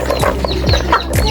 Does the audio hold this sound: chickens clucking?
yes